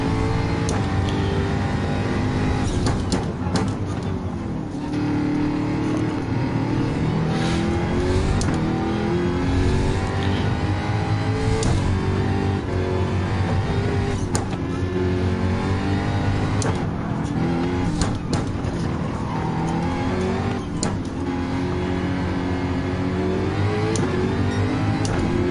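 Jaguar race car in Gran Turismo 7, a tail-happy Group 3 machine, its engine roaring loudly and continuously with repeated revving rises and gear-shift dips throughout.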